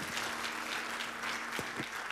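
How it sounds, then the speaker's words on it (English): Church audience applauding panelists, a steady round of clapping from a crowd, moderately distant, with a few louder individual claps near the end. "let's give our panelists one more round of applause"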